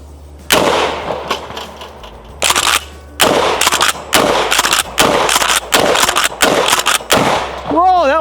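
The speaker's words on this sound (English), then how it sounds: "Whoa, that was a slug." Shotgun slugs fired in a rapid string during a torture test of an Olight Osight S micro red dot sight, each loud close blast followed by a ringing decay, with a brief pause between groups of shots.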